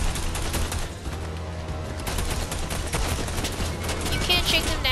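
Rifle fire from a PPU rifle in Fortnite, dense bursts of shots repeating through the whole stretch, loud and close over busy game noise, with some voice in the mix.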